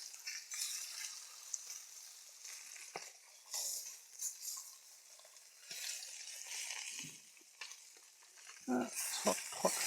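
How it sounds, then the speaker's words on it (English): A tomahawk steak sears in a hot pan with a steady, close sizzle throughout, broken by a few soft clinks and scrapes of utensils toward the end. No one speaks. "So I might just sear that side while we're here."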